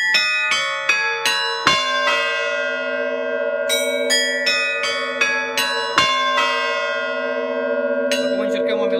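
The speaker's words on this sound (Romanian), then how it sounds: "Asta este un controller de la care se dirijează toate clopotele fixe" Eight fixed church bells at a parish in Ziua Crucii, Iași, rung by an electronic bell controller, ring out a test melody: clear, bright strikes in a steady rhythm with long overlapping hum, loud and close, no talking.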